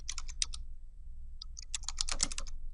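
Typing on a computer keyboard comes in quick clusters of crisp key clicks, with a pause in the middle and a busier burst near the end, fairly quiet and with no talk.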